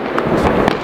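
A Diwali firecracker goes off close by in a short, loud burst of crackling pops with no talk.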